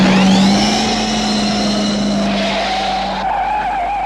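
A DeLorean driven by remote control skids, its tires squealing in one long, loud, close slide with a steady high whine that shifts pitch near the end.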